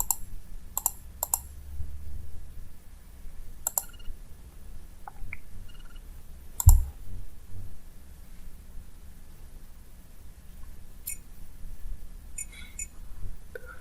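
Sparse mouse clicks while choosing Microsoft Office 2020 install options on a computer, scattered singly and in small pairs over a faint low hum, quiet and close, with no talk.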